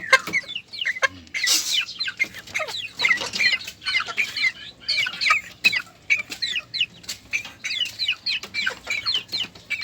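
Talisayin bantam chickens cluck and call continuously in a backyard coop, a busy overlapping flock with occasional wing flapping, close and fairly loud with no talking.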